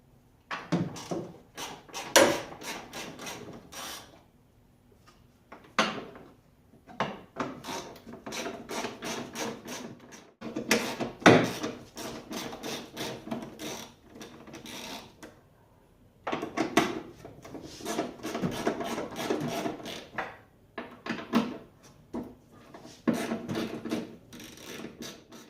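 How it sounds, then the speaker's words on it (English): Ratchet loosening 10mm bolts on a 2003-2006 Kia Sorento engine, heard as close, bursts of rapid clicking and rasping separated by short pauses, with no speech. "Go ahead and get your ratchet and get yourself like a long extension so that you're able to get the bolts in the back."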